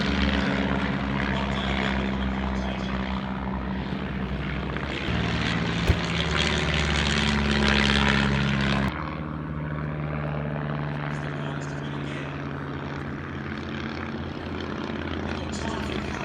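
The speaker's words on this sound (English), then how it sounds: "we got a bit of a display from the aircraft that did the barnstorming" A barnstorming propeller aircraft drones loudly overhead during a flying display at the Shuttleworth airshow, its engine pitch shifting as it passes, with someone talking over it.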